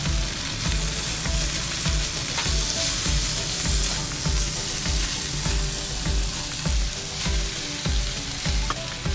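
Chow mein noodles stir-fried with sauce in a pan, a loud, dense sizzle under rhythmic tossing and scraping strokes repeating roughly twice a second, close up with no voices.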